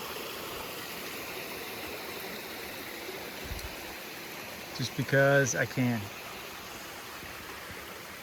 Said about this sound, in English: Right in the middle of this little brook.